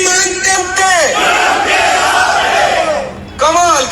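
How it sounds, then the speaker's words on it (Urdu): Large crowd at a political rally (jalsa) shouting and chanting slogans in unison, loud and sustained, with a voice calling out at the start and end before the massed roar swells back. "کس طرح سے لوگ نعرے لگا رہے تھے"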